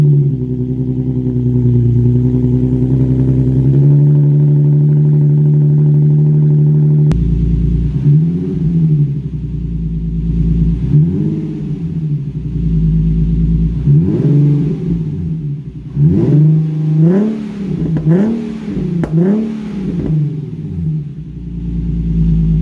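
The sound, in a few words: Nissan 370Z with muffler delete exhaust revving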